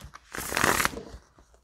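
A Shiro Machete tarot deck is shuffled by hand, a close burst of riffling card flutter swelling to a dense peak then trailing off into a few soft taps.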